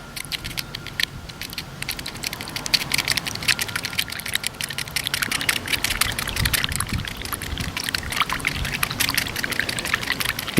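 Scraped yucca leaves being worked by hand in water to raise a natural soap lather, giving a steady wet sloshing and trickling patter that runs continuously and close throughout.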